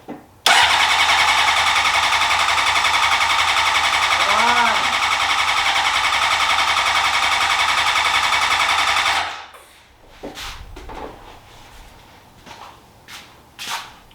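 A 2003 Honda CBR600RR motorcycle engine, back running after 18 years, catches and holds a loud steady idle for about nine seconds, then cuts off, leaving faint shuffling and small clicks.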